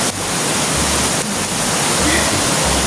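A river in Makiling Botanical Garden rushes loudly in the rain, a dense continuous roar of water close by, with occasional low rumbling bumps.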